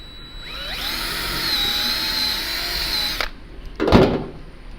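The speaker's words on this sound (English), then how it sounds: "So I have this half-inch drill bit right here, and I'm going to drill in about," A power drill with a half-inch bit whines steadily for about three seconds as it bores into a wooden bowl blank, its pitch wavering slightly. It stops abruptly, followed by a short clatter.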